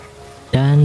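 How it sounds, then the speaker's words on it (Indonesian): A lamb or sheep bleats in a tense film scene, a single sustained, close bleat that starts abruptly midway and holds steady after a quieter, murky background. "Dan lagi-lagi terdengar suara domba"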